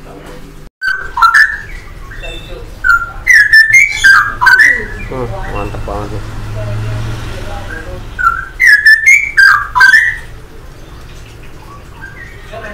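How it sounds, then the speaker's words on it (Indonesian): A straw-headed bulbul (cucak rawa) sings at a bird market, its loud, close, liquid whistled phrases coming in rich bursts with pauses, while someone speaks briefly and market murmur and a low hum run underneath. "Nah, di sini untuk cucak rawonya."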